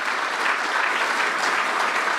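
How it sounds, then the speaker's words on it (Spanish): A crowd gives steady, dense applause throughout, loud and continuous with no voices on top. "Un aplauso."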